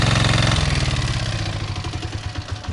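A Yanmar engine runs nearby with a steady, chugging throb that slows and loosens toward the end, as if it is winding down.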